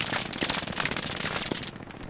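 Machine gun fire in the video game Hell Let Loose: dense, rapid crackling bursts of gunfire rattle continuously and fairly loud, fading slightly toward the end.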